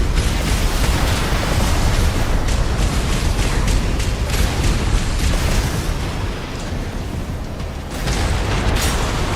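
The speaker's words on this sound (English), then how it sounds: "Late explosion." Heavy, rumbling explosions and booming impacts from mech combat in Armored Core 6 PvP, dense and continuous for several seconds with a brief dip before a renewed blast.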